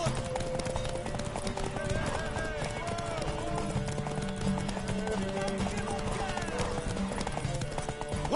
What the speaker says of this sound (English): Want that horse, don't ya?